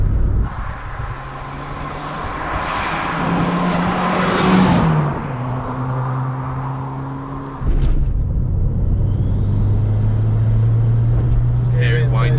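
A turbocharged Ford Fiesta ST 150 with a turbo kit revs up loudly while driving, engine pitch rising then dropping at a shift before climbing again, heard from inside with people talking over it.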